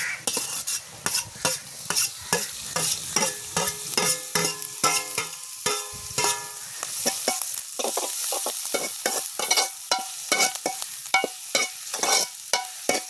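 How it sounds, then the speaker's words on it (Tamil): Clam meat fries with onions in a pan on a beach while a utensil stirs and scrapes it in quick, repeated metallic strokes over a steady, close sizzle. "வெங்காயம் பதங்கிட்டு இனி ஏரல் சதையை போடுவோம்."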